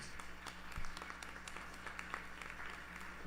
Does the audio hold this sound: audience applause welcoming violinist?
yes